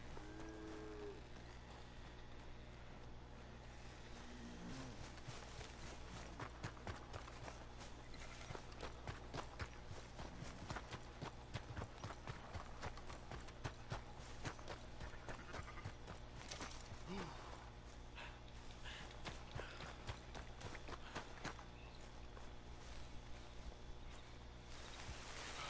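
Steady clip-clop of horse hooves walking at an even pace in the video game Red Dead Redemption 2, with game-like background sound and occasional faint voice, fairly quiet overall.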